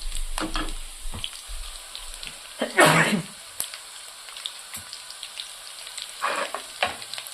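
Onions frying in a pan give off bursts of sizzling and spattering crackle, loudest in one sharp flare and then another later, with quieter pops in between.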